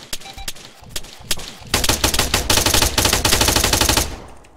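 Sustained automatic gunfire in the military shooter game ArmA 3, a few scattered shots first, then a dense, loud rapid burst that rattles on for over two seconds before cutting off.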